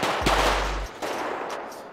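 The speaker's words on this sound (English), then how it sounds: "They still shooting." GTA 5 gunfire: a loud close burst with a deep booming tail, then fainter scattered shots further off against a quieter background.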